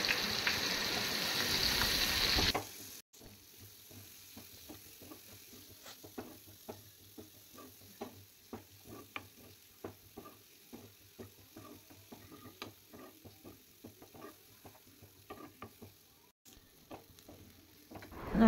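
Green chillies and onion sautéing in oil for a prawn thokku: a soft steady sizzle with regular light ticking and scraping taps of a spatula, after a brief louder burst at the start.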